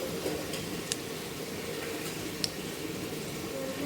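Cumin and mustard seeds temper in hot oil, giving a soft, steady sizzle with a couple of sharp little pops as seeds crackle, faint and close by.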